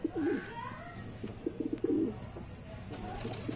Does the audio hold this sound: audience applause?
no